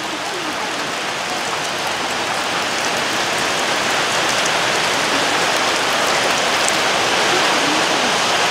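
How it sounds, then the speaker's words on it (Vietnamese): Heavy rain pours down outdoors near a hillside field, a loud, dense, unbroken hiss with no voices over it. "Mưa này."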